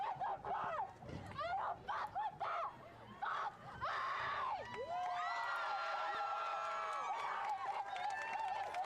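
A large crowd cheers, screams and shouts at a Los Angeles street gathering, the rising yells and shrieks loud and chaotic, with voices calling out over the din.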